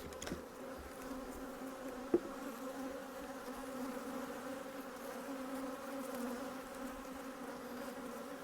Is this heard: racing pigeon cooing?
no